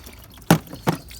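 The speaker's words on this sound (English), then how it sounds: "So as you can see, water's coming out." Water drains out of the coolant expansion tank on a 2003-era Audi A4 B6 2.4 V6, heard as two short, close splashing gushes separated by a brief pause, with quiet room noise between them.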